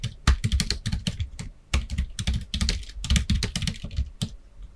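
Typing on a computer keyboard while entering a chart title, with quick, close key clicks in irregular bursts and brief pauses, heard alone.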